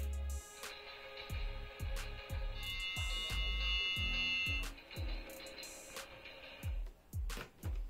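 A try-me button on an Adventure Force remote control toy train set plays a short electronic tune with repeated thumping beats and bright tones, near and loud, with no talking.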